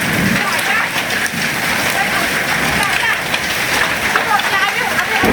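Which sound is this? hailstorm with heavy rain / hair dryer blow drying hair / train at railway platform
hailstorm with heavy rain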